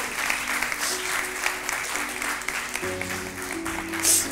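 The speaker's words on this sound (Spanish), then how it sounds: "Denle un aplauso a Dios." A church congregation applauds steadily and fairly loudly, the dense clapping continuing without a break from start to finish.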